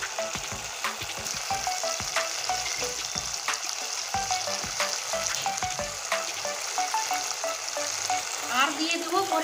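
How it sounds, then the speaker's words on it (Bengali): Rui fish roe sizzles steadily in hot oil in a pan, with occasional clinks and scrapes of stirring over a continuous close frying hiss. "এটা এখন দিয়ে দিচ্ছি ডিমটা। এবার সুন্দর করে ভেজে নেব।"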